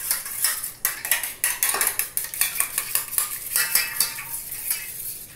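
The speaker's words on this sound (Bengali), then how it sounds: "এই ডিমটাকে ফাটিয়ে এটার সঙ্গে ভালো করে মিক্সড করে" An egg cracked into a bowl and whisked with a utensil, producing quick rhythmic clinks and scrapes against the bowl, close and fairly bright, with no talking.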